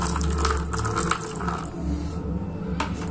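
Hot water poured into chapati dough in a kitchen, a close, continuous splashing stream that thins out and tapers off near the end.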